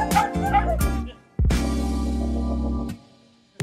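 Dogs at a breeder's kennel with corgis in cages give a few close, loud barks and yips, then one sustained howling whine, followed by a short final yelp.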